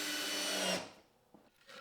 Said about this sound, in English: make sure that you countersink before you drill those screws in